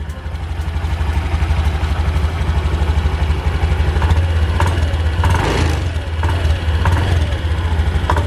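A Honda Beat Street 2020 motorcycle engine runs steadily close by, with a throttle surge swelling its loud, even drone around the middle before it settles back to a steady run.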